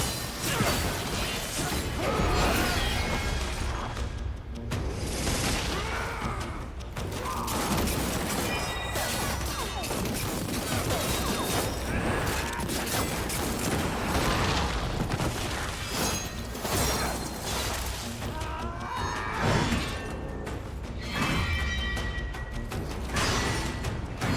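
A boss in Darksiders 3 fires her guns in a dense, continuous barrage of crashes, booms and whooshes that fills the whole stretch with game noise, and no voices come through.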